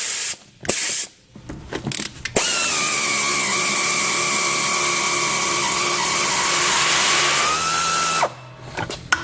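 ESCO 20429 portable bead breaker working on a tire rim to strip the bead, a loud steady pneumatic or mechanical drone holding for about six seconds, bracketed by short clunks and ratcheting before and after, with no talk.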